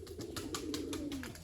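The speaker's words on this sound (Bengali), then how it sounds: "কবুতরগুলো আমার ভয়ে চালের উপরে বসে আছে" Pigeons perched on a village rooftop coo in a soft, low, repeated murmur, with faint fluttering and light bursts of activity across the short stretch and no talk.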